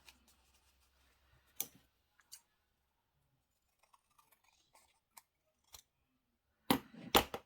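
Scissors trim a fragile vintage book page in a few sharp, separate snips, with faint rustles and clicks in between and a louder cluster of cuts at the end.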